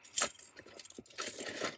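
A set of keys jangles close by in a Toyota Tacoma truck, two quick bursts of bright metallic clinking separated by a brief pause.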